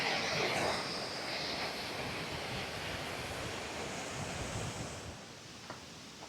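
Glenashdale Falls on the Isle of Arran, Scotland, makes a steady broadband rushing roar of falling water, continuous and fairly loud, mixed with some wind buffeting on the microphone and no talk.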